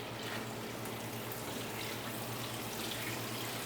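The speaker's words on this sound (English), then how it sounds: "I'm just gonna pour my water." Water pours steadily into a container while preparing wheat fodder for chickens, a continuous close splashing rush with a low hum beneath it, no voices.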